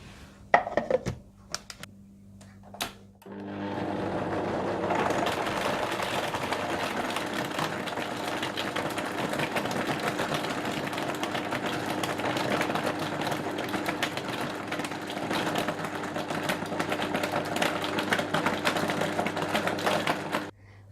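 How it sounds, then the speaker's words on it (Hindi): An electric blender runs steadily, blending a mango and banana smoothie with ice, vanilla essence and caster sugar; after a few short bumps it settles into a loud, continuous whirring whir for most of the clip before cutting off. "बर्फ, वनीला एसेंस और कैस्टर शुगर डालकर अच्छी तरह से ब्लेंड कर लें।"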